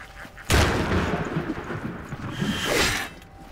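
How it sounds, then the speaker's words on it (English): A bomb thrown by an enemy explodes in the dungeon crawler Legend of Grimrock 2, a sudden loud broadband blast followed by a rumbling decay and a second swelling burst near the end, with no talk over it. "He's gonna throw another bomb at me"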